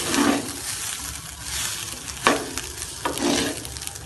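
Bhuna khichuri ingredients are stirred together in a pot, making scraping, swishing strokes over a low frying sizzle, with louder bursts as the spoon moves through the mix.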